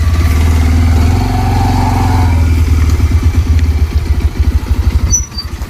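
Motorcycle engine running steadily and loud close by, a continuous low throbbing drone that eases off near the end into a rougher, pulsing idle.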